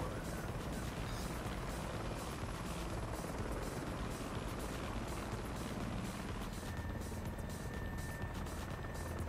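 A helicopter drones steadily with a fast, even rotor chop and engine hum, continuous and fairly loud for the whole stretch.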